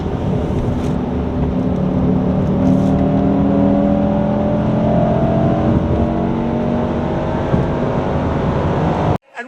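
A Mercedes-AMG E63s wagon accelerates hard, its engine roaring loud and continuous for several seconds with rising pitch through the run, then cutting off abruptly near the end.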